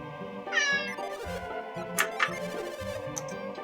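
Cats meowing close by, several distinct meows including a rising, drawn-out cry, with a couple of sharp higher calls following, heard alone over a faint background hum.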